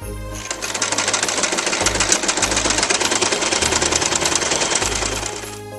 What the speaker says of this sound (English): I'm going to sew them together along that seam.